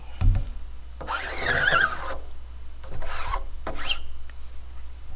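Rasping, scrubbing strokes of a hand rubbing draw fluid across a screen-printing screen, coming in two or three bursts of friction with short pauses, close and fairly quiet.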